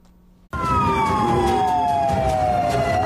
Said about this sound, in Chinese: 消防车鸣笛声大作